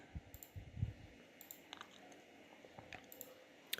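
Soft computer mouse clicks during Photoshop game asset design work, faint scattered ticks at uneven intervals over a low room background.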